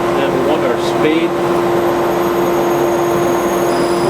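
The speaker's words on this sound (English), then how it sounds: "so we've got our vacuum on, and then we want our speed." A dust collection vacuum runs steadily beside a woodturning lathe, a loud continuous whine with a strong drone that holds level throughout, with a faint talking voice in the background.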